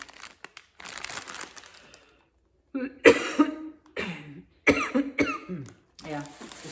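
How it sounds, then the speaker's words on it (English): Several close, sharp coughs come in bursts, separated by short pauses, with some rustling crinkle in between. "Excuse me, coughing."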